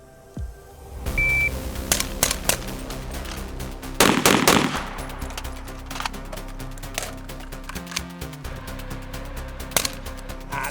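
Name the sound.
rifle and pistol shots fired with white light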